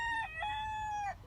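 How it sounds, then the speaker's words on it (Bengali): A rooster crows once at dawn, a clear drawn-out cock-a-doodle-doo with a rising start and long held call, heard alone and somewhat distant at modest volume. "দূর থেকে ভেসে এলো মোরগের ডাক।"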